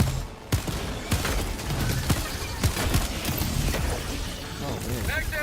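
Video game gunfire as a magazine is emptied: a run of sharp shots, some in rapid bursts, over a dense, loud game soundscape, with a voice talking at points.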